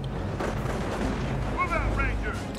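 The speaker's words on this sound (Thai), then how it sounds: "ใช่แบบนั้นแหละระเบิดอันเข้าในตึก" Explosion blasting into a building in Company of Heroes, a muffled boom and crackle in the middle of steady distant battle rumble, with bird-like chirps and someone talking over it.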